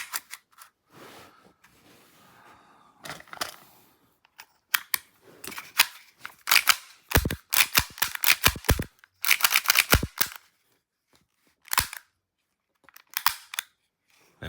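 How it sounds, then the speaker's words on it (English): Sharp mechanical clicks and snaps of a Tokyo Marui HK45 airsoft pistol slide being fitted back onto its frame, close up, in irregular bursts with quiet gaps and no talking. "And then I should be able to reinstall the slide onto the frame."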